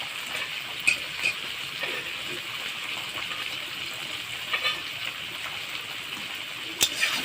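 Spice masala with red chilli powder fries for a fish curry, a soft steady hiss of sizzling in the pan with a few light utensil knocks while it is stirred, close but fairly quiet, no talking.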